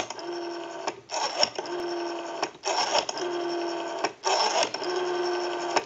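A rotary dial on a 500-series desk telephone spins back repeatedly, each return a steady whirring buzz lasting about a second, separated by short pauses and brief clicks, close and clear with no talking.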